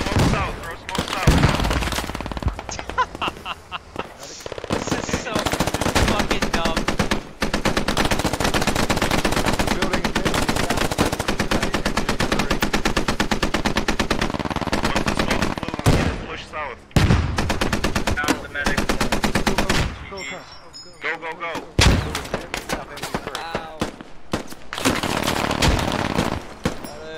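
Sustained machine gun fire in the military shooter game Squad, loud and dense bursts with brief pauses, gunshots continuing throughout with voice chat talk mixed in.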